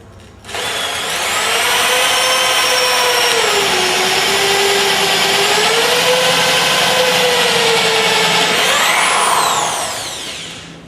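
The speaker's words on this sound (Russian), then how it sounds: "Мы берем дрель и начинаем высверливать отверстие в этой данной точке при помощи нашего сверла." An electric drill bores a hole at a marked point, making one sustained whine of about eight seconds that rises and dips slightly in pitch as the bit bites. It spins down at the end, loud and close, with no talk.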